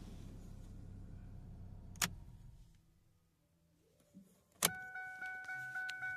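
A Ford C-Max engine idles with a low steady hum, then cuts out, followed by a click and a sequence of repeated electronic beeping tones.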